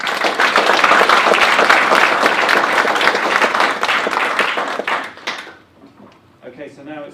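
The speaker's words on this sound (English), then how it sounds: "So let's have another round of applause for Tao." An audience at an academic anniversary event applauds in a loud, sustained burst of many hands clapping, which tapers off and dies away near the end, leaving faint room sounds and a few scattered claps.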